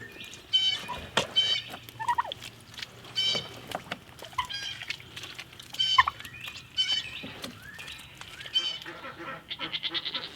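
Turkeys gobble repeatedly in a chorus, with several birds calling in overlapping bursts among other farmyard noise; no speech.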